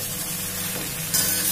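Potato and eggplant curry is stirred in a hot pan: a brief, close burst of sizzling and frying with scraping stir sounds, getting a little brighter toward the end, with no voices.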